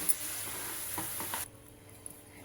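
Tomatoes frying for a cashew tomato curry get mixed in a pan, a steady close sizzle with soft stirring scrapes that drops to a quieter hiss partway through.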